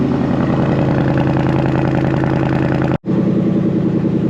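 A 2024 Ford Mustang Dark Horse with a Whipple supercharger idles loudly and steadily up close, a dense rumbling drone that cuts out for a split second before carrying on.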